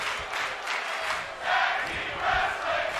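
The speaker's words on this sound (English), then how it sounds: "And listen to the crowd." Virtual arena crowd during a tag team wrestling match in WWE 2K25 swells with cheers and shouts in waves, moderately distant and fairly faint.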